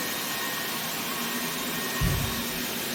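A Roborock robot vacuum cleaner runs with a loud, steady broadband whir, a low thump briefly rising near the end.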